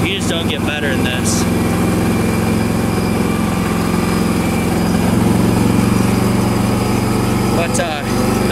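A John Deere 316 garden tractor engine runs loudly and steadily up close, a continuous droning rumble with a voice speaking over it at times.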